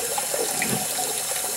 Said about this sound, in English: I got to run my hot water because I fill up a glass jar halfway with hot water